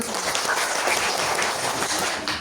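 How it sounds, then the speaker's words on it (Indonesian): A group of children in a classroom clap their hands together, a steady, dense patter of many claps at moderate loudness throughout. "Bisa tepuk tangan."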